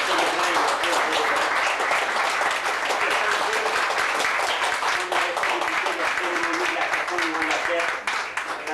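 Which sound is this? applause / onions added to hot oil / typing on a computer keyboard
applause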